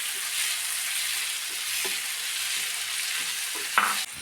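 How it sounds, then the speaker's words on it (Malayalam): Green chilies and finely chopped tomato sautéing in a pan for a quick chicken roast, a steady close sizzle with soft stirring scrapes and a sharper clatter near the end, no talking. "പിന്നെ ഒരു തക്കാളി ചെറുതായി അരിഞ്ഞത്. നന്നായിട്ട് വഴറ്റി കിട്ടണം."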